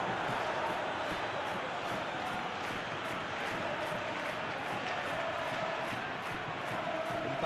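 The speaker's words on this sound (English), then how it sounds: "The crowd clearly like what they just saw" Simulated stadium crowd in the football video game PES 21 during a Barcelona versus Copenhagen Champions League match, a steady dense roar of cheering that stays loud and even throughout with no break.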